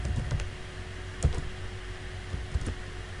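Someone types a search into Google Chrome on a computer keyboard. The key taps are soft and irregular, with a couple of louder clacks, under a steady low hum.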